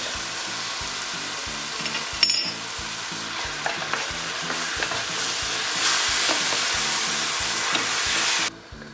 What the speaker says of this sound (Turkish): Hemen domatesimi ekliyorum. Onu da güzelce kavuracağım.